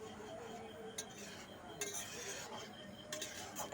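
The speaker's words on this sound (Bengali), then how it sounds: "এবার একটু নাড়াচাড়া করে মিশিয়ে নিচ্ছি" Papaya and mung dal curry with ghee is stirred in a pan, a faint scraping under soft sizzling, with a few light metallic clinks of the spoon against the pan.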